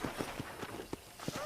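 Horse hooves in the video game Red Dead Redemption, a quick string of faint clip-clop hoofbeats at a trotting pace, quiet and close.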